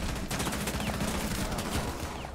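Rapid bursts of video game gunfire in a Diamond-rank match, dense automatic shots overlapping with some single cracks, loud and continuous throughout.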